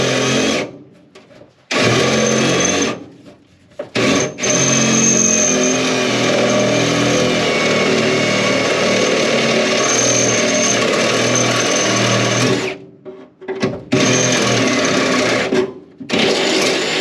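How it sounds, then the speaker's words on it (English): A power drill whines steadily for several seconds with brief pauses and restarts, its motor tone loud and close. "now that I've got that hole drilled"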